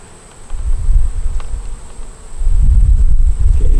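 Honey bees buzzing loudly around an opened beehive, a dense low drone that swells in two strong waves as bees pass close, no talking.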